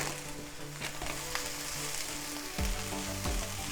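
Bean sprouts hit a hot wok and fry with a loud, steady sizzle, and a sharp burst of crackling comes as more go in near the end, with no talk over it.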